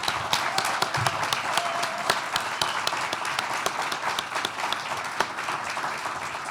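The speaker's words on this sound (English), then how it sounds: "So would our Kemba partners please stand up and take a round of applause." An audience at a corporate client of the year awards event in Cincinnati, Ohio applauds for its sponsor partners. The clapping is dense and continuous, fairly loud, and holds steady throughout with a few sharper individual claps standing out.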